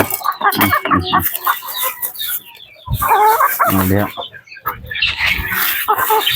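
Shamo chickens cluck and crow close by while a person speaks in short phrases over them.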